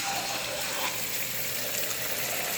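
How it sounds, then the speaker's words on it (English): Beaten eggs pour steadily into a hot stainless steel pan, a continuous rushing sizzle with no pauses or speech. "I'm going to pour my eggs in."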